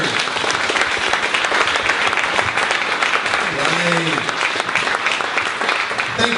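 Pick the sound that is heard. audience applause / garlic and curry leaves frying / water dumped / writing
audience applause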